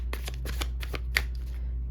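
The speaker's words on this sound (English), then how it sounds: "Now I gotta shuffle this one." Carnival-themed tarot cards are shuffled by hand in a quick series of about six crisp riffling bursts, close and clear over a quiet low hum.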